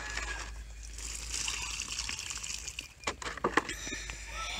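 Water splashes and trickles steadily onto soil and leaves, with a few sharper spattering bursts partway through, fairly close.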